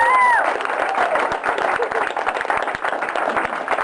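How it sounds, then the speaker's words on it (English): A round of applause at a party after speeches, a short burst of scattered clapping from a small crowd with a brief tone at the start, close and lively throughout. "Let's give a round of applause for that."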